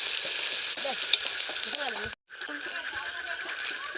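Onions sizzle in hot oil at the start of a meat curry, a steady bright frying hiss with a short break where it cuts out, under a voice speaking.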